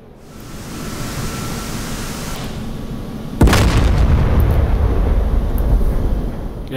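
Bombs from an F-15E Strike Eagle in DCS strike their target in a loud, close blast, a sudden heavy boom followed by a long rumbling roar of debris and fire that lingers without talk.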